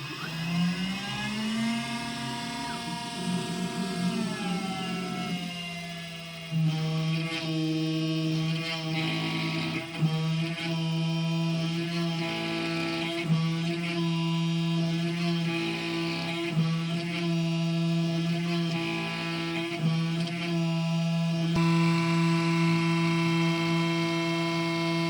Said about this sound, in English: the machine moved on to trace the outer perimeter of the part, cutting cleanly through the material with each pass